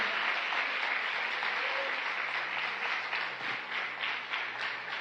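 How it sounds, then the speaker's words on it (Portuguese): A church congregation claps loudly and steadily for Jesus Christ, a full roomy roar of applause from a large crowd that fills the whole stretch with little variation. "aplauda bem forte a Jesus Cristo por essa palavra"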